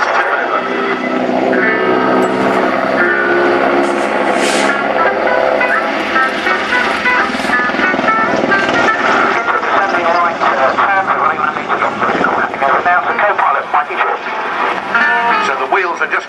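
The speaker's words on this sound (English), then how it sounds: "So you get a very good view of the underside of the helicopter." A helicopter flies low and close overhead at a naval air station air day, its loud rotor and turbine roar filling the scene with steady blade chop while a commentator talks over it.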